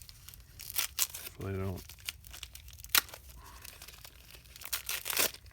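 A small mail package of RC parts is cut open, producing close crinkling and tearing of plastic wrapping in short bursts, with a person speaking briefly between the sounds.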